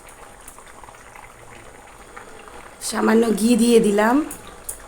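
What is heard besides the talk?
water boiling with kofta curry cooking in pot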